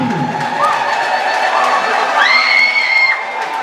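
A large crowd claps and cheers loudly, with shouts and whoops rising over the steady applause.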